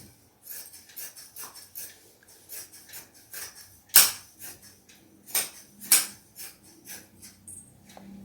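Scissors snip through fabric while a long designer frock is cut out, a run of crisp, separate cuts at an uneven pace, with two louder metallic clacks in the middle.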